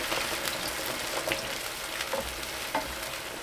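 Eggplant pieces with garlic, ginger and sauce sizzle steadily in a pan, a close, continuous frying hiss broken by occasional soft stirring scrapes and taps.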